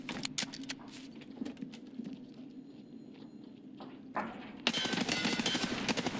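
Gunfire in a realism-focused shooter video game, heard as scattered sharp shots early and then a loud, rapid burst of repeated firing near the end, with quieter shuffling and movement noises between.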